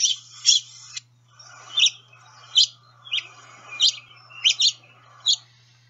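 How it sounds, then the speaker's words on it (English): A songbird gives a series of short, high chirping calls, spaced irregularly with brief pauses, over a low steady hum. "The calls essentially to me sound like just a single note from the song."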